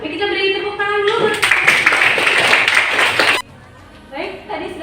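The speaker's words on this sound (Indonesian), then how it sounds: "Kita beri tepuk tangan dulu." Clapping from a classroom group follows a voice that is speaking, with a dense burst of hands lasting about two seconds before cutting off abruptly, after which talk resumes.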